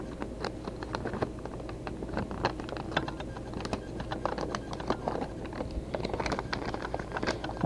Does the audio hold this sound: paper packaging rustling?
yes